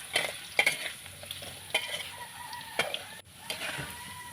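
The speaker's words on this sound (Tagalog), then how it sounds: "Sunod natin pipituhin ay ang 2 pirasong patatas na hiniwa din. So, kailangan din siya maging light brown." Sliced potatoes fry in oil with a soft sizzle, punctuated by several sharp spatula taps and scrapes against the pan, close and moderately quiet; a rooster may crow faintly in the background.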